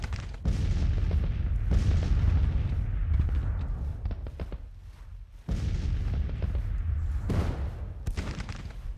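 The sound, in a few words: artillery firing in a Civil War video game campaign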